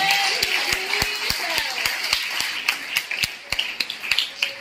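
Congregation clapping hands during a Sunday church service, sharp irregular claps rising over a sustained background of singing or music, steady and fairly close throughout.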